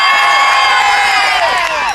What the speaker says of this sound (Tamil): அல்டிமேட் சார் அஜித் ரசிகர்கள் கைத்தட்டல் பார்க்கலாம்.